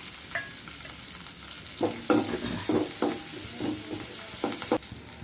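Onion and curry leaves sizzle steadily in hot oil, with a few soft stirring scrapes in the pan and no talking.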